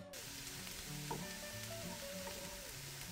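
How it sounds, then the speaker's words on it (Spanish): Vegetables sauté in oil in a pan, a steady close sizzle and crackle running through the whole stretch with scraping stirring noises and small clinks over it, no voices. "antes vamos a saltear las verduritas"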